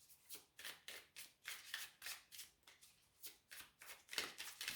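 Oracle cards of Kali are shuffled by hand in a quiet room, giving a rapid, rhythmic series of crisp riffling flicks close up with no voices.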